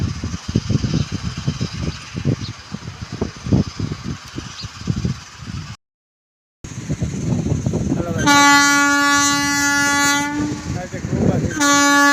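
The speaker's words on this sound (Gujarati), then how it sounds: "રેલગાડી હાલી આવે છે." A train rumbles and clatters nearby, then a loud sustained horn blares twice as it approaches, with faint voices in the background.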